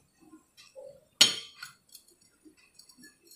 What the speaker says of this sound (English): Now again put the glass inside the bowl.